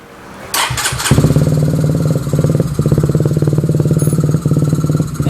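A few quick cranks, then a rebuilt 150cc Honda Dream motorcycle engine catches and settles into a steady, loud, rapid-pulsed idle nearby.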